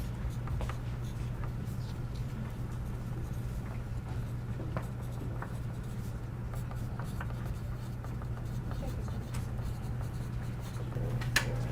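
Continuous soft scratching of pencils moving across paper as students write in a classroom, steady and close, under a low room hum, with no one speaking.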